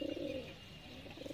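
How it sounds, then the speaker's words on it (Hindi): A Sialkoti pigeon gives a short, low rolling coo, close and clear, fading briefly before swelling again at the end. "तो ओरिजिनल सियालकोटी कबूतर ये बटेरों में से, तो अच्छा कबूतर है ये"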